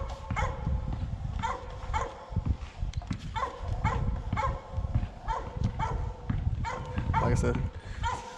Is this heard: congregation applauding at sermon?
no